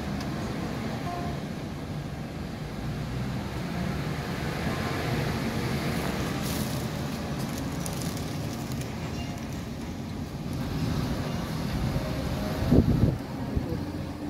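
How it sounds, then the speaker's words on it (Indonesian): Strong storm wind in Hong Kong roaring steadily and gusting during a typhoon with rain, a low rumbling rush that swells and eases, with a brief louder thump near the end. "anginnya kencang banget gitu suaranya itu suaranya itu menggelegar banget anginnya itu"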